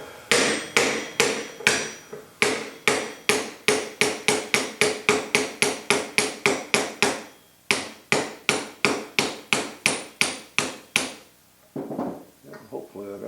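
An aluminum block strikes a transmission drum in a steady run of about forty sharp metallic hammer blows, close and loud, with two short pauses in the rhythm and no talk over it.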